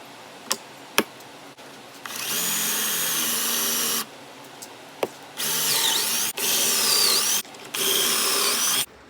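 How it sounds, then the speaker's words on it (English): Power drill boring pocket holes in wooden pieces for a DIY storage cubby, several loud whirring bursts of a few seconds each, separated by short pauses and sharp clicks and knocks. "we got all the pocket holes drilled on all the pieces"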